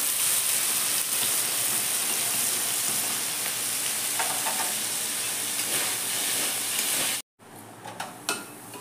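Chowmein noodles boil in a pot, giving a steady, loud bubbling hiss that fills the space before cutting off abruptly near the end, followed by a few quieter clatters.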